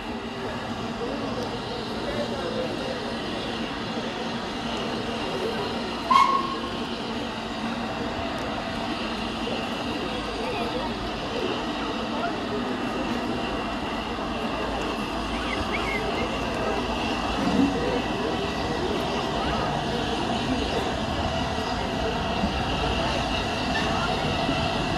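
The Flying Scotsman steam locomotive rolls along the track on its centenary tour, a long, steady rumble of wheels and carriages heard from close by.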